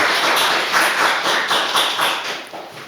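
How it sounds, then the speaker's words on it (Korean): Audience at a policy forum held in a National Assembly hall claps to welcome an arriving lawmaker, a steady, dense patter of many hands sustained for a few seconds with no talking over it. "큰 박수로 환영해 주십시오"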